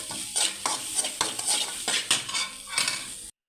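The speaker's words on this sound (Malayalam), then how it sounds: "അവിടെ പാത്രത്തിൽ കുറച്ച് എണ്ണ ഒഴിച്ചിട്ടുണ്ട്. തേങ്ങ വറുക്കാനാണ്." Grated coconut roasting in a little oil in a pan, with steady sizzling and repeated scraping stir strokes of a spoon against the metal, close and clear, ending abruptly.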